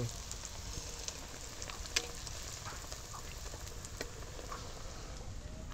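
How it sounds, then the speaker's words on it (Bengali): Potato and semolina cutlets fry in hot oil with a faint, steady sizzle and a few light pops, heard alone. "দেখো তেল গরম হয়ে গেছে, এবার আমি একটা একটা করে কাটলেট ছেড়ে দেবো।"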